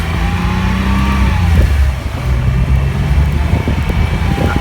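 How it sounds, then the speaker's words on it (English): A 1987 Porsche 911 Carrera Cabriolet engine revs, a close, steady mechanical hum that rises and settles with throttle changes, loud and alone. "This motor runs perfectly."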